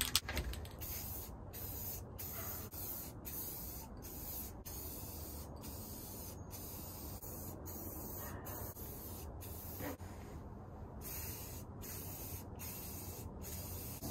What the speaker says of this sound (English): Spray it like you would anything else, and don't let it run.